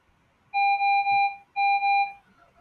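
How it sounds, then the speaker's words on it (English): Home alarm sounding indoors, two long loud electronic tones in succession, each a steady pure pitch lasting close to a second, with a faint pause between them and quiet room noise around. "The alarm's going off."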